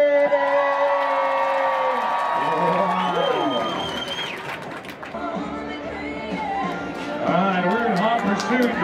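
A crowd of women shrieking and cheering loudly together at a rodeo, a sustained wall of high voices and whoops that swells again near the end.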